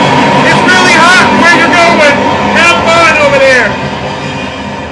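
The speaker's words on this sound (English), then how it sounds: "And the train is going to fade off into darkness." A train passing sound effect rolls by loud and close with rising and falling whistle-like tones, then fades off near the end, under continuous talking.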